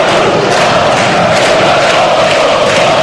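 Dense football crowd roaring at Montenegro vs Wales, a loud, sustained wall of cheering and chanting that holds steady throughout without letting up.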